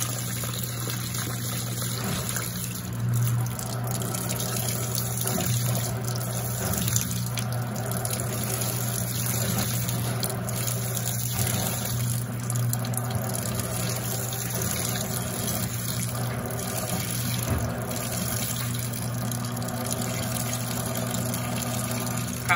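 An Electrolux Perfect Wash Turbo LT12F washing machine fills with water during its rinse, a steady close rush of inflow with a low pump-like hum running unbroken throughout.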